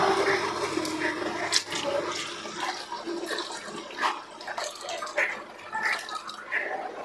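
Tamarind water and plain water are poured into a pot of rasam, a soft continuous splashing and trickling at moderate distance that rises and falls in gentle surges.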